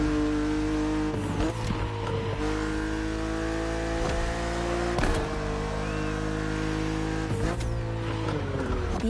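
Engine of a BMW Z roadster in a racing video game, a steady loud drone with shifting pitch that rises and drops through gear changes over about nine seconds, with brief bursts, no talk.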